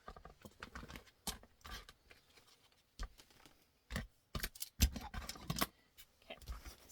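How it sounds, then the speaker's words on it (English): Scissors cutting handbag lining fabric, heard as a series of quiet snips and rustling slides of the blades, irregular and close, with pauses between cuts and no talking. "Now we're going to cut the lining."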